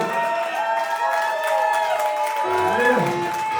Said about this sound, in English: fucking round of applause, all kick-ass fans and playing tonight